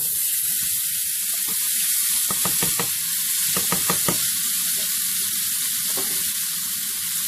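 Peppers fry in a pan for chicken cacciatore with a steady, bright sizzle throughout, broken by short clattering bursts of stirring.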